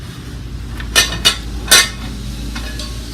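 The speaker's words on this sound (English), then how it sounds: "I'll just put that fuel cylinder down in the corner of the milk crate." A fuel gas cylinder is set down into a milk crate among camping cookware, making three close metallic clunks and clinks in quick succession, followed by faint lighter knocks.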